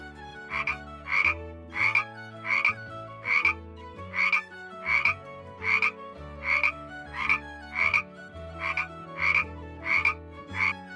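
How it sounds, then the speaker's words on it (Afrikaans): A frog croaks in a steady rhythm, about fifteen short pulsing calls over a continuous low hum, fairly close and clear with no voices. "Dit is 'n padda."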